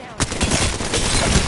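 Rapid bursts of automatic gunfire in a multiplayer shooter game, loud and close, rattling continuously after a sharp onset with game noise underneath.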